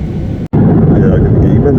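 Steady engine roar of a Turkmenistan Airlines airliner filling the cabin, loud and continuous apart from a brief dropout, with a person talking over it.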